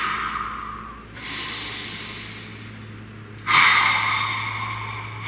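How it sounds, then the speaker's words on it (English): Two long, slow deep breaths drawn in close to the microphone, each a soft rushing inhale that fades out, separated by a quiet pause. "Please take a nice deep breath."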